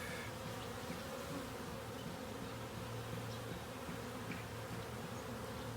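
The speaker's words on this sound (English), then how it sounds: "Another bee sniffing my nose." Honey bees buzz continuously and densely around an open top-bar hive during an inspection, a close, steady drone with no talking.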